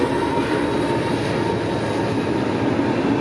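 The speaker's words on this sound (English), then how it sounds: "Into a local train in Golden, Colorado with some of the last remaining BN engines." A local freight train hauled by BN locomotives rumbles past in Golden, Colorado, a loud, steady, close rolling roar with faint tonal whine, continuous throughout with no talk.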